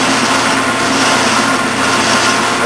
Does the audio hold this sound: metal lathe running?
yes